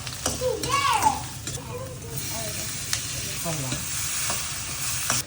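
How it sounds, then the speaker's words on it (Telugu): Onion fries in hot oil in a pan for a Rayalaseema breakfast dish while being stirred, with a steady sizzle and hiss under scraping. Voices, including a child's, talk over it. "నూనె కాగింది, ఎర్రగడ్డ వేసుకొని కాసేపు మగ్గినాక మళ్ళీ టమోటా వేసుకోవాలి"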